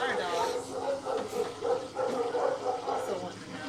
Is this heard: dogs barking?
yes